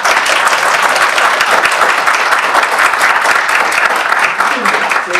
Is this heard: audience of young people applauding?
yes